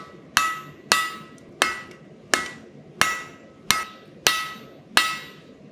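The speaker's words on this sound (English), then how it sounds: "put half on the anvil, and I'm going to make a set down. Like you would a set of tongs" Eight sharp, ringing hammer blows on an anvil as a hot bar is forged into a set down, struck at a steady rhythm about two thirds of a second apart, each with a bright metallic ring.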